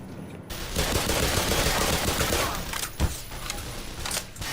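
Sustained machine gun fire in the shooter game Black Mesa, a dense, loud rattle of rapid shots running throughout with a sharper burst near the end.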